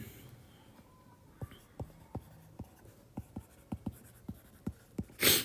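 Marker or chalk writing on a board during a lesson, a close, quiet series of about a dozen sharp strokes and taps at an irregular rhythm, ending in a louder scrape.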